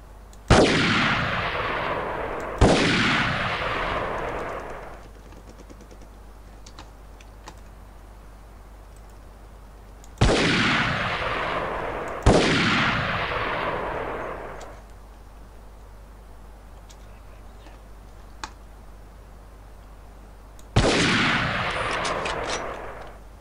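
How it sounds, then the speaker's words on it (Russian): Enemy gunfire in the shooter game Delta Force: Task Force Dagger: five loud, sharp booming shots, each decaying over a couple of seconds, spaced irregularly with quieter gaps holding faint clicks between them. "откуда-то по мне сейчас стреляют"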